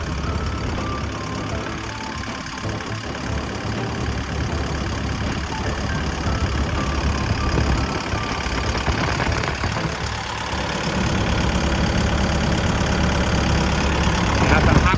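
A Hitachi ZX135US-3 excavator's Isuzu 4JJ1 turbo diesel engine idles nearby with a loud, steady, dense rumble that grows slightly stronger toward the end.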